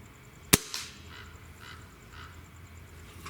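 A single sharp crack from a Stoeger ATAC air rifle fired at a pellet can outdoors, a brief echoing report followed by quiet ambient background.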